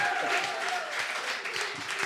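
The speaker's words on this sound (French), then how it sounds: "On peut applaudir vraiment très très fort ce parcours impeccable de Philippe." Audience applause at a televised game show, a steady wash of clapping that holds at moderate volume throughout with no gaps.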